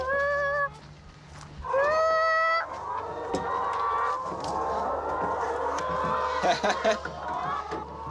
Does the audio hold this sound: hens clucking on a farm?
yes